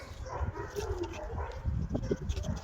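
A hyperactive pet dog whimpering and yipping softly, fearful of eye drops, in short uneven whines, fairly quiet and close, with a person talking at moments.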